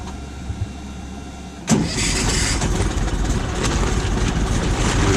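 An Argo 8x8 amphibious vehicle's engine on choke: quiet low idle-like hum, then at about 1.7 s it catches with a burst and settles into a steady, loud running roar, close by.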